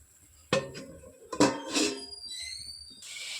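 Metal lid set down over a pan of water spinach (kalmi shak) left to simmer, giving a couple of sharp clanks at close range, followed by a faint high hiss.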